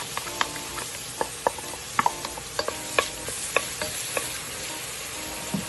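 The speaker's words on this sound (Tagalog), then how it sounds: "magigisa na po tayo ng ating sibuyas, bawang" Onion and garlic sauté in a pot for beef mechado, a soft continuous sizzle broken by frequent light clinks and scrapes of a ladle against metal, close and free of talk.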